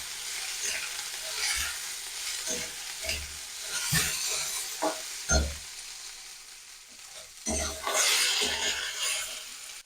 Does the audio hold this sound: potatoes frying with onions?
yes